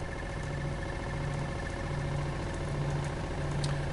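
A motor-driven 24-pole rotor spins with a steady, close mechanical hum and a pulsing whine that holds an even pitch, unbroken and alone.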